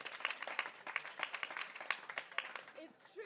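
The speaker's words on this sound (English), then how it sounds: "So when I said tap, okay, you all clap" Youth at a COP28 pavilion clap quickly in a tap game, a faint crowd of many hands producing rapid irregular bursts, with a voice briefly audible near the end.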